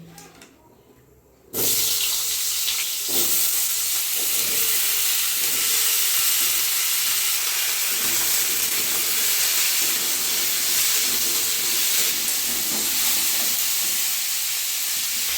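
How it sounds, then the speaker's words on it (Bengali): Cut squash and potatoes hit hot oil and burst into a loud, sudden sizzle that holds as a dense, steady hiss after a brief quiet start. "দিয়ে দেবো তেলের মধ্যে কেটে রাখা কোয়াশ আর আলু দিয়ে দেবো।"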